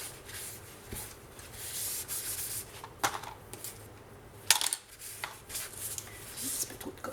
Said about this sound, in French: On essuie la colle au fur et à mesure.